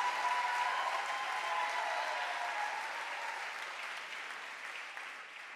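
A large church congregation applauds together, a dense, sustained wash of clapping that gradually fades in loudness over several seconds without distinct voices.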